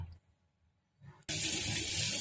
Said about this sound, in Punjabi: ਸਾਗ ਨੂੰ ਆਪਾਂ ਦੋ ਤਿੰਨ ਵਾਰੀ ਸਾਫ਼ ਪਾਣੀ 'ਚ ਧੋ ਲਵਾਂਗੇ